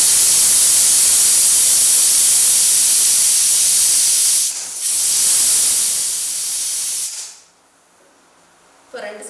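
A pressure cooker lets off a loud, steady hiss of escaping steam for several seconds, briefly interrupted, before cutting off to near quiet with a short burst at the end.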